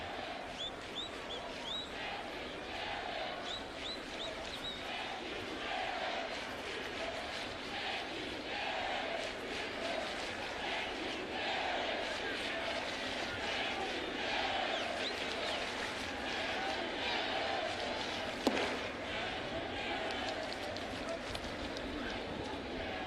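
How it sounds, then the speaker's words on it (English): Baseball crowd at a Yankees home game against the Toronto Blue Jays, a large mass of fans chanting in a steady rhythmic roar from a distance, with an announcer talking over it. "A lot in the crowd, a lot of people in the crowd chanting"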